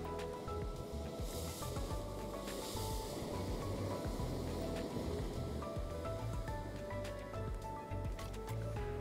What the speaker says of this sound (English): Just to watch the waves break.